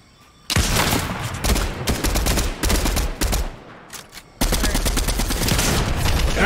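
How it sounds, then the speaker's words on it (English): Bursts of rapid gunfire from gold weapons in a Fortnite squad match, loud and dense, crackling in long volleys with a short lull near the middle and another sustained barrage toward the end. "Is somebody shooting at us?"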